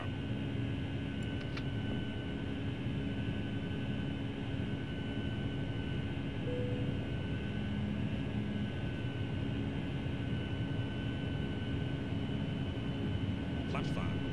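Boeing 757 jet engines at takeoff power in Flight Simulator X produce a steady, loud, broadband roar with a constant whine that continues unbroken throughout.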